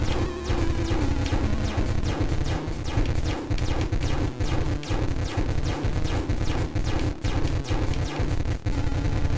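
Rapid, dense volleys of projectiles fired by a priest boss in the church fight of the video game Ghostly Matter, a loud continuous barrage of crashing, gunfire-like impacts over a steady low drone, with no pauses throughout.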